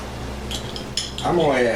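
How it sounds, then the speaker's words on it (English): A spoon clinks against a pot as heaping teaspoons of garlic go into cooking onions for French onion soup, a few light metallic taps followed by a louder, steadier scraping stir near the end; faint background voice. "heaping teaspoons of garlic over in my onions there, and let me stir those up"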